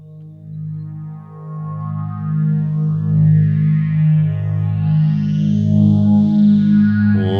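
A sustained synthesized pad drone with a steady low bass tone and slowly sweeping, shimmering upper harmonics, smooth and continuous without breaks.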